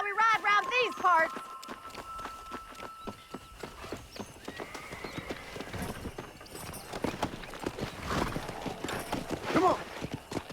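A horse in the Red Dead Redemption video game neighs loudly, then steady clip-clopping hooves follow, picking up pace into a run, with music and a voice at times over the hoofbeats.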